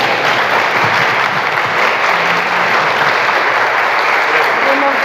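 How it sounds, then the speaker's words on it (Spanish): Steady audience applause at a Spanish-language radio announcing workshop fills the room, dense and continuous throughout, with faint voices mixed in underneath. "El aplauso es para ustedes."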